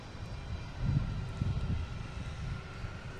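A Cape Air plane moving on the ground at Boston Logan airport gives off a low, continuous engine rumble of moderate loudness with slight pulsing swells and no talk.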